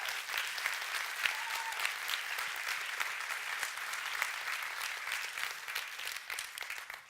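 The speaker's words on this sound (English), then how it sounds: "I think it's worth a round of applause" A conference audience at an opening session in Dubrovnik applauds, a steady, even clatter of many hands that holds for several seconds at a moderate distance.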